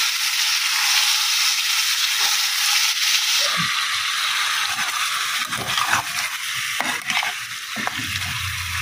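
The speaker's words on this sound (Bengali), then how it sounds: "প্রথমে ঢাকনা দিয়ে দিয়ে ভাজবো, তারপরে ঢাকনা ছাড়া কিছুক্ষণ ভাজবো।" Food fries in oil in a covered pan with a continuous loud hiss and sizzle. Occasional crackles and light stirring scrapes come through, and no one speaks.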